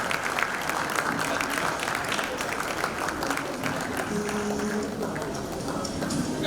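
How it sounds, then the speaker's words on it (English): Continuous audience clapping at a fireside chat event, dense and fairly loud for the whole stretch, with a few voices and some low hum mixed in underneath. "keep clapping, keep clapping."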